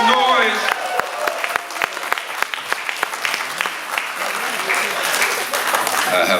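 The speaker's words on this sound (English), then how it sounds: "clap it up, make some noise." An audience at a Kwanzaa celebration at Malcolm X College claps loudly and steadily, a dense patter of many hands with some cheering, while a host's voice talks over the start.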